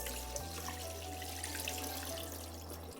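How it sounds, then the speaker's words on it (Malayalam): Starchy soaking water drained off cut potatoes for French fries, a steady close running-water rush like a sink tap, continuous and alone for the whole stretch. "ഇനി നമ്മൾ ഈ വെള്ളം നന്നായിട്ട് അങ്ങ് അരിച്ച് കളയണം."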